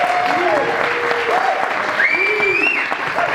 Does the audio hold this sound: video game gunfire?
no